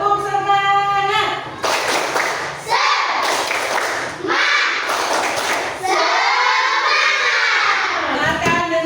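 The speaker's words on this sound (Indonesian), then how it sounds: "coba tepuk semangat" Second-grade classroom children perform a rhythmic spirited clap, bursts of group clapping and thumps alternating with shouted chanting in young voices, loud and close, with a teacher's voice at the start.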